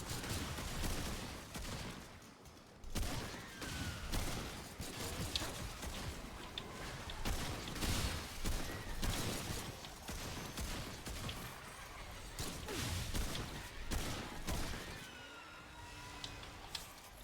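Video game gunfire in a game featuring remnants and a shotgun, dense rapid bursts of shots and clatter running continuously and loudly, with a brief lull near the start and no speech.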